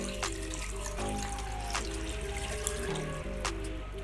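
Water poured into a cooking pot for groundnut soup along with sieved meat stock, a soft steady trickle and splash with a few drips, close and quiet, no talk.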